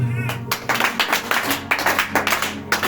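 A church congregation claps in acclaim of Jesus, brisk bursts of hand claps in quick groups with a sustained tone or voice running beneath, fairly close and loud.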